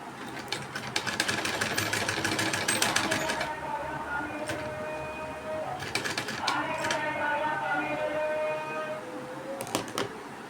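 A sewing machine stitches a binding strip around a blouse neckline in short bursts of rapid mechanical ticking, alternating with pauses, while soft background noise and faint tonal sounds carry on nearby.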